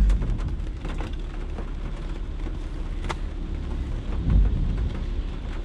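Heavy rain pours down outdoors in a steady, dense, roaring wash with deep low rumble throughout, loud and continuous with no voices.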